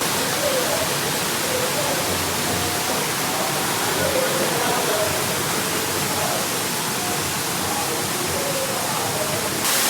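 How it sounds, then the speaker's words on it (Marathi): Water pours down from above the Shri Shrugareshwar Ganpati temple at Harkul, a dense, steady rushing hiss with no pause, close and loud, faint voices barely beneath it. "बघा असं मस्त पाणी पडता बघा"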